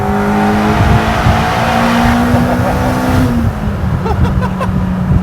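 A Civic Type R EP3 with a Spoon N1 exhaust roars steadily with rising revs and a droning exhaust tone, loud and close, then eases off near the end.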